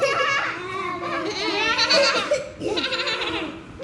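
A voice imitates a goat's bleat in a wavering, sing-song cry, close and fairly loud.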